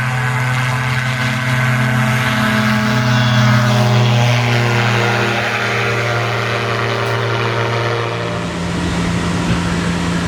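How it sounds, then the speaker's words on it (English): A propeller plane climbs away from the runway on an early morning at an aviation convention, its loud, steady engine drone sustained throughout and shifting in pitch near the end. "the very first plane to get off the runway"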